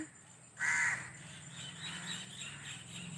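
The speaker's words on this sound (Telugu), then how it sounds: "రకరకాల పక్షులు ఇవన్నీ చేరుతూ ఉంటాయి" One loud, close crow caw breaks out, followed by softer distant calls of sparrows and other birds gathering in trees at sunset, over a faint steady outdoor hum.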